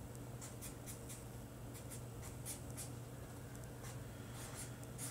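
Pen or marker writing out an Ohm's law formula, heard as quick, close scratchy strokes in short bursts over a steady low hum.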